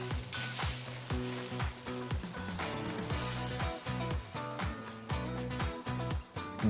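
A tenderloin steak frying in a pan, its close, steady sizzle running continuously under a bed of music, with the crackle holding level throughout.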